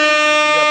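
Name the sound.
DJ air horn sound effect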